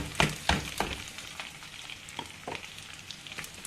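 Crushed coconut, asafoetida and sambar powder frying in hot oil for South Indian sambar, a soft steady sizzle with a few sharp crackles and stirring clicks near the start, alone without talk.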